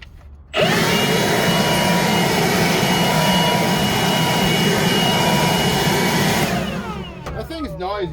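A noisy air blower in a garage starts abruptly and runs at a loud, steady roar for several seconds, then winds down with a whine, and a voice is heard briefly at the end.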